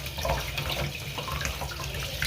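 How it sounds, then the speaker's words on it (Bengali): Water from a tap pours continuously over meat being washed by hand, a close, steady splashing with shifting spatters and no voices. "তো চলো মাংসটা ধুয়ে তারপর তোমাদেরকে দেখ"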